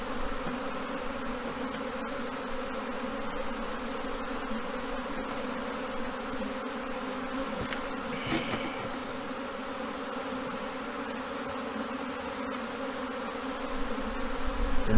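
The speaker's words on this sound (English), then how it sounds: "the humming of the bees" A steady, dense humming of many honeybees in a hive, continuous and close, with no voices and only slight shifts in intensity.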